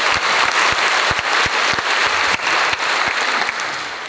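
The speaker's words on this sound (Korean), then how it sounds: "여러분 다시 한번 큰 박수 부탁드립니다" Loud, close audience applause in a lecture hall at a public talk in Goyang, South Korea, steady dense clapping filling about four seconds with occasional sharper individual claps standing out.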